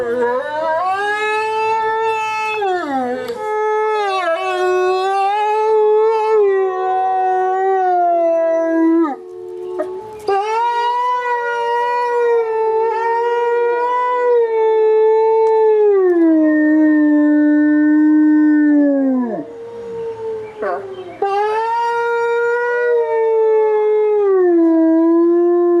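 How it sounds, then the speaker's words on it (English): Several captive wolves, including Shadow and Malik, howl together in long sustained, sliding tones that overlap and rise and fall, loud and close, with brief breaks near the middle and end and no talking. "the other wolves howling in that clip were Shadow and Malik"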